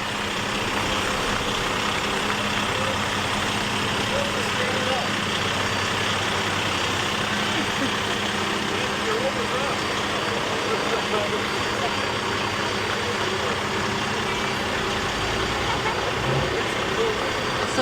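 A semi truck tows a float in a Memorial Day parade, its engine idling and rumbling steadily at middle distance amid continuous crowd noise and talk.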